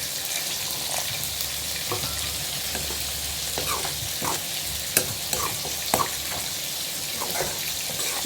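Water is poured into a pan of sizzling fish biryani masala, producing a steady hiss and crackle of frying with scattered stirring knocks and clinks close by.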